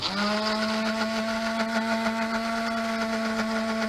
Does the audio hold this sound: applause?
no